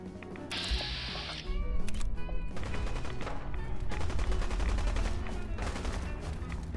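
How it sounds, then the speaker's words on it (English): Video game gunfire in Fallout 4, a battle at Far Harbor: rapid bursts and sustained automatic fire from a distance, dense and continuous, with metallic clanks and rumbling layered beneath. "Why do I hear gunfire?"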